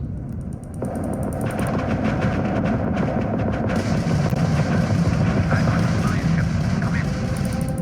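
Spaceship weapons fire in the Starfield space game, a steady rapid barrage of shots and explosions running throughout with a continuous engine rumble beneath, loud and sustained, with speech mixed in.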